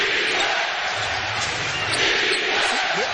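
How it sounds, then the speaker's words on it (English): An arena crowd at a Jazz versus Rockets NBA playoff game roars steadily, a dense, sustained wash of cheering and shouting that fills the space without pause. "Do I hear the crowd? Yeah, the crowd is in the game."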